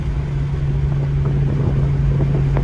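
A BMW 335is engine pulling hard in third gear after a port-injection fuel system upgrade, a steady loud drone heard from inside the car with no talking.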